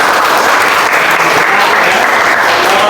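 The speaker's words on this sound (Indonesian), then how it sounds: "Mari kita tepuk tangan bersama." Loud, dense applause from a classroom audience, steady throughout with no pauses.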